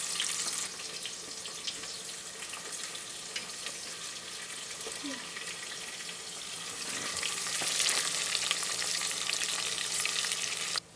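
Onions sizzling steadily in hot oil in a pan for mutton biryani, a continuous bright frying hiss with occasional stirring scrapes, growing slightly louder near the end.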